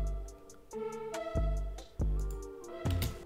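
A dry synth lead from the Loophole bank, played without effects, gives a few plucky bright notes with a thumping low attack on each, quiet and close.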